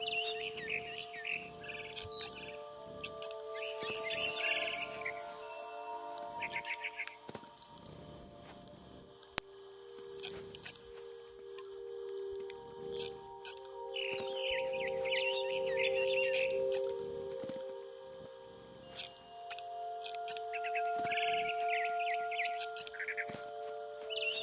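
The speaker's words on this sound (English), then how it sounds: "Then I heard chirping outside my window. It was a barn swallow going back to her nest." Repeated high barn swallow chirps and tweets in the video game What Remains of Edith Finch, scattered over a steady tonal background, some calls bright and close, with brief clinks between.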